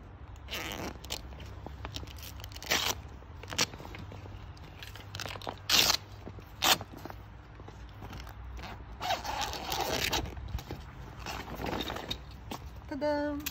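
The strong zipper of a cargo bag is pulled in several short rasping strokes, close and fairly quiet, amid rustling fabric.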